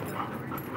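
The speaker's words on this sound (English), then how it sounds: "Can't really see what kind of dog that is." A dog whimpers and pants close by in a brief burst, with no talking.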